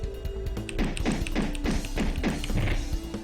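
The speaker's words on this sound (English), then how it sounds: "I punched him super hard at the end." Hard punch impacts from the basketball brawler game Charles Barkley Shut Up and Jam Gaiden, a rapid series of about eight punchy thuds with bright attacks over a humming tone, ending in a strong hit.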